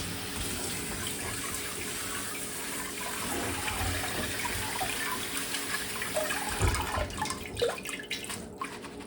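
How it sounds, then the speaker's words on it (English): Cold water runs from a tap over broccoli sprouts in a sink, a soft continuous splashing rinse with a few louder splashes and drips near the end. "I'm going to give it a final rinse, cold water rinse"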